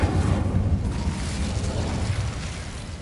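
A whooshing, rumbling burst of fire from the Incendio spell in Hogwarts Legacy rolls on steadily and fairly loud, with no talk over it.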